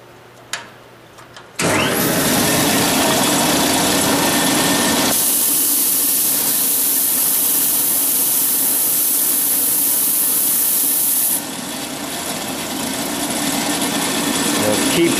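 A power sander works a wooden box, starting abruptly after a few quiet knocks and then running as a loud, steady, close whirring drone that shifts pitch partway through.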